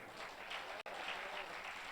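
Audience applause at a Hindi comedy poetry gathering, a soft, distant, even patter of many hands with one abrupt momentary dropout partway through.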